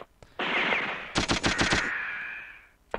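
Rapid automatic gunfire bursts loud and close in a first-person shooter game on PS1, a sustained rattle of shots followed by a quick string of sharp reports that fades into a trailing echo.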